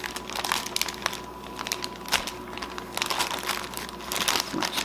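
Ziploc bag holding marinating jerky meat crinkling and rustling as it is zipped shut and handled, a close, continuous plastic crackle with small sharp snaps.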